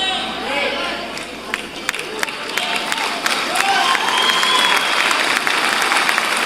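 Audience applause at a church sermon, a dense crackle of clapping with scattered sharp claps that swells and holds steady, with crowd voices and cheering mixed through it.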